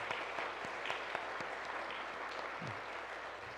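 A church congregation applauds retiring elders and deaconesses at a thanksgiving service, a soft, steady patter of many hands heard from a distance, with a few sharper claps standing out.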